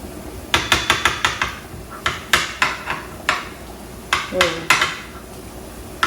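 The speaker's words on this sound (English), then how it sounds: "let's just cut into this. Let's see. Use my pie server here." A pie server scrapes and clinks against a baking dish while cutting into a warm zucchini bake, a series of sharp metallic taps and scrapes in irregular bursts, close by.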